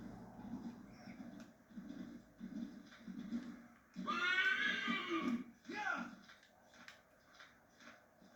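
A horse in a video game whinnies loudly over muffled background voices and soft thumps, with a short snort following the neigh.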